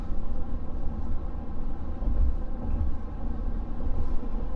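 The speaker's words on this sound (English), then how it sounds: "listening to the old diesel hum" An old diesel truck engine hums in a low, continuous drone with a steady rumble and some wind noise, heard from inside with no talk.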